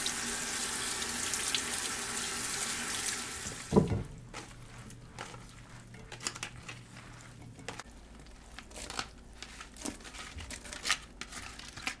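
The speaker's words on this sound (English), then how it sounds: "So I'm just gonna give the kimchi or the cabbage a quick rinse." Running tap water splashes steadily as cabbage for homemade kimchi is rinsed, then shuts off and gives way to quieter handling with occasional crinkles and drips.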